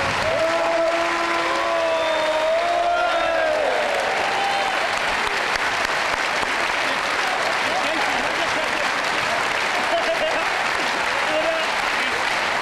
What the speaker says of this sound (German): Und hier ist euer Applaus